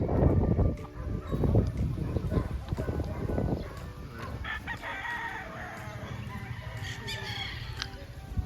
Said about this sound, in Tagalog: Yung manok dito.